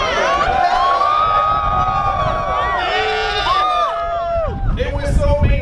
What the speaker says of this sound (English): Well, Milton Friedman gets some applause.